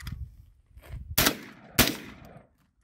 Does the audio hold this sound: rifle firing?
yes